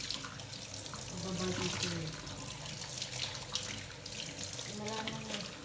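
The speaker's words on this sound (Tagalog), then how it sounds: "Malakas ang tubig ng yung agos ng tubig dito sa barangay namin" A strong stream of tap water gushes steadily into a kitchen sink in a barangay home, a broad continuous splashing rush with a voice talking briefly over it.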